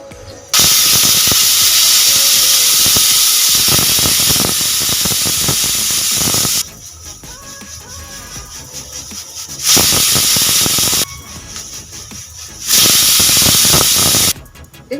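A pressure cooker of mutton curry on high flame hisses out steam in loud sustained bursts, three long blasts separated by quieter gaps of the pot bubbling.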